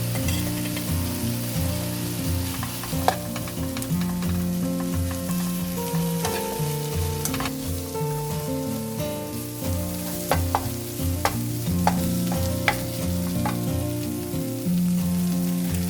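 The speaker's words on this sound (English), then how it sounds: "After that, add kimchi and keep stir-frying for 2 minutes." Kimchi, onion and bacon sizzle together in a hot pan for a kimchi cream pasta, a continuous frying hiss with rhythmic scraping and knocking of a spatula as the mixture is stirred, occasional sharper clacks.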